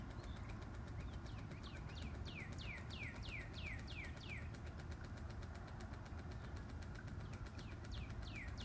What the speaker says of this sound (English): Right now you can hear birds chirping in the background.